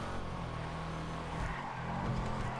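Engine of a fast sports car in Grand Theft Auto, a steady low rumbling drone with a brief dip as it shifts, fairly quiet under the game mix.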